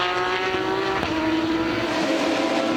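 GT race cars, among them a Ferrari, scream down the back straight at Mid-Ohio Sports Car Course, a steady loud engine drone with rising harmonic tones as several cars pass close together.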